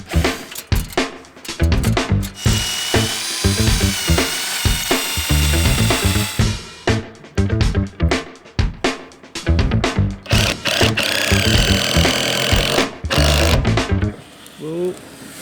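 A power drill whirs in repeated bursts, revving up and cutting out with short gaps, loud and close, with clattering and handling noise between runs.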